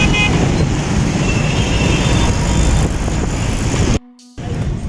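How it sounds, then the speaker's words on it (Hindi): Busy street traffic in a Karachi shopping area: a dense, loud roar of engines with short horn toots, a brief near-silent dropout, then the traffic noise resumes. "और ट्रैफिक अब का भी देख लो"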